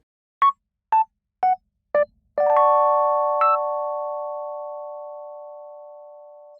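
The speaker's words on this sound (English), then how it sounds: "Here is the sound of the software Rhodes alone," A software Rhodes electric piano plays four short, bright single notes in an even rhythm, then a sustained chord rings out and slowly decays, clean and close with no other sounds.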